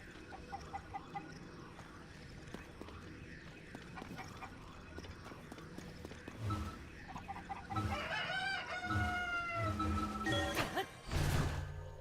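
A chicken clucks in the video game Zelda: Tears of the Kingdom, a run of soft clucks that builds into louder, shriller squawks and a crow-like cry near the end, with game sounds underneath and no speech.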